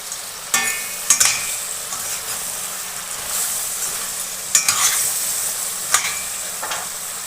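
Onions, curry leaves and spices fry in a pan for a crab masala, a steady sizzle broken by several sharp scrapes and clatters as the mixture is stirred, close and fairly loud with no talk.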